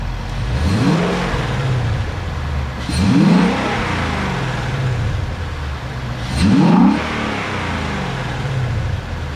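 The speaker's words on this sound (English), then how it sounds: "We're talking about a naturally aspirated 5-liter Coyote V8 engine that puts out 460 horsepower and 420 pound-feet of torque." A 2020 Ford Mustang GT with a naturally aspirated 5-liter Coyote V8 revs twice, each blip a loud rising surge over a steady rumbling idle, heard up close with no talking.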